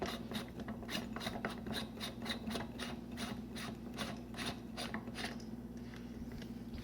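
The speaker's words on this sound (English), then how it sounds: "Now we are going to put the motor tube over top. Now you should feel the threads engage." A pump reservoir's motor tube is screwed onto its threads, making a close, rhythmic ratcheting rasp that repeats steadily and fades out near the end.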